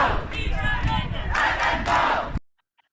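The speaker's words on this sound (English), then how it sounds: "as you can see, they are a very vocal crowd" A loud, vocal crowd protesting the detention of asylum seekers on Kenmure Street in Scotland shouts and chants in a dense, continuous roar that cuts off abruptly.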